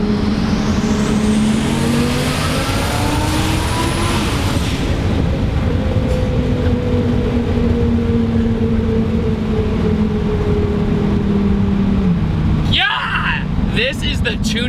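A 1350 hp Lamborghini Huracán Performante accelerating hard, its loud engine note climbing steadily through the gears with pitch rises and drops at each shift, close and continuous before a sudden cutoff near the end.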